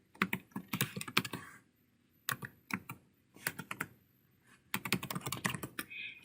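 Computer keyboard being typed on in short bursts while setting up a password: clusters of crisp, close key clicks separated by brief pauses, with no voices.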